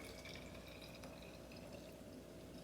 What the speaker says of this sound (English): So now we're going to pour about a cup of milk as well.